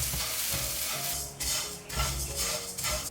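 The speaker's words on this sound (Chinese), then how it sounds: "接着我们来炒香一些黑芝麻。" Black sesame seeds stir-fried in a pan give a steady soft sizzle and rustle with light scraping of a utensil against the pan, close and continuous throughout.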